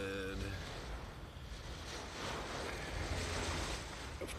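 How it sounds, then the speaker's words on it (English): Hurricane wind during Hurricane Matthew in Savannah, a steady roaring rush with gusting swells and buffeting against the microphone, heard from beside a parked van and continuing without a break. "Of course, the wind."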